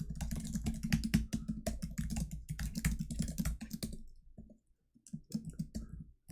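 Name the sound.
typing code on a computer keyboard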